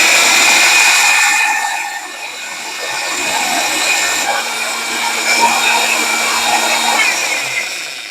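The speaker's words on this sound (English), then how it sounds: "I'm going to put it in my other food processor to smooth it out even more" A food processor blending fermented banana hot sauce with vinegar, a loud, close, continuous whirring motor hum that dips briefly and then runs steadily again.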